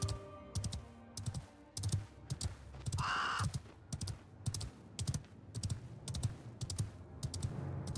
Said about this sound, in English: Getting chased by this bird right now